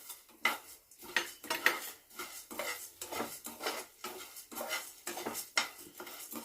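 Coriander seeds and urad dal dry-roasting in a pan for vamaku leaf chutney, with a spoon scraping and rattling them in steady, repeated stirring strokes, close and moderately loud, no talking.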